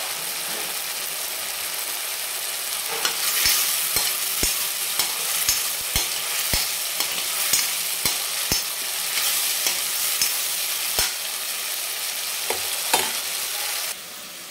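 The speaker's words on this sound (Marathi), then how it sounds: "तेल छान सेपरेट व्हायला चालू झाल्यानंतर आपल्याला त्याच्यामध्ये 2 हिरव्या मिरच्या मधून कट केलेल्या आहेत त्या टाकून घ्यायच्या आहेत" Slit green chillies sizzle steadily in hot oil for a Kashmiri dum aloo gravy, with a spoon repeatedly clicking against the pan as they are stirred, close and continuous with no talk.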